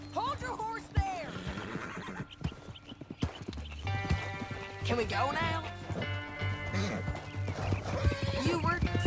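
Horse hooves clip-clop and a horse whinnies in the Western video game Red Dead Redemption 2, close and clear, interleaved with men's dialogue.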